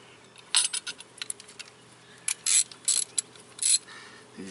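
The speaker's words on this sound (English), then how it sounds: "These Crescent brand wrenches, or socket ratchets here, they're levers opposite of everybody else." Crescent socket ratchet turning 12 mm bolts on a Honda Ridgeline power steering pump, sharp clicking pawl bursts in quick uneven runs with brief pauses, close and alone.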